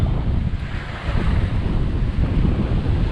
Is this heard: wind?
yes